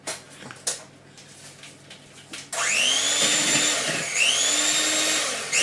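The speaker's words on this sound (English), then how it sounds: "whisk the egg whites until they're stiff but not dry" Electric mixer whisking egg whites for a chocolate roulade, loud and steady after a few quiet clinks, with its whine rising and falling as the beaters move through the bowl.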